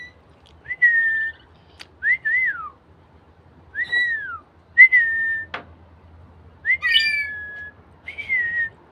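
A rainbow lorikeet gives a series of clear, sliding whistles, about seven separate phrases with short pauses between, in a quiet room.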